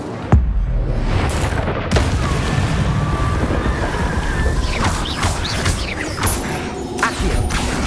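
Incendio fire spell cast in Hogwarts Legacy gameplay, bursting in sharp booming hits amid a dense rush of crackling, clattering combat effects, loud and continuous with no talk.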